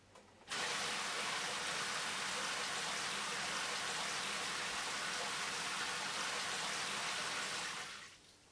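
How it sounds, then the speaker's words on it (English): A monsoon rain shower head on an Insignia shower runs steadily, a dense, even hiss of falling water that starts abruptly, holds constant for about eight seconds, then fades out. "in the 12 o'clock position, this will operate the monsoon rain shower"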